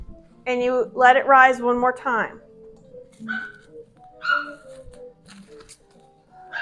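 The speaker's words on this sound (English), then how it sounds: "you can probably hear my little puppy in the background" A little puppy yips and whimpers in a home kitchen, a quick run of high, squeaky barks followed by a few softer whines, heard in the background while someone talks.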